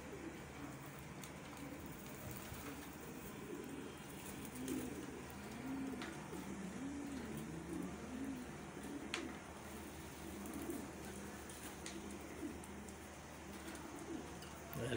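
Soft, repeated cooing of pigeons, rising and falling in low rounded phrases, steady throughout with a faint outdoor hiss in the background.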